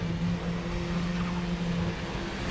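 KTM X-Bow RR in the RaceRoom racing game, a continuous engine drone holding a steady pitch as it accelerates, loud and alone.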